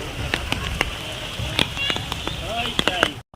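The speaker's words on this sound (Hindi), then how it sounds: "बहुत झमाझम बारिश हो रही है" Heavy rain pours at a hillside temple with slippery steel stairs. A dense, continuous patter is punctuated by sharp nearby drips and splashes, then cuts off abruptly at the end.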